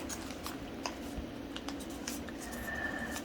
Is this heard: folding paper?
yes